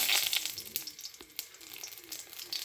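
Bay leaf frying in a wok of hot white oil, a soft steady sizzle with faint crackling bursts, moderately quiet and close, with no voices.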